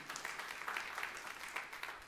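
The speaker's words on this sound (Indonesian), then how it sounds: "tepuk tangan yang meriah untuk kemuliaan nama Tuhan." Congregation applause during a church sermon, a steady dense wash of many hands clapping that holds evenly for about two seconds with no speech over it.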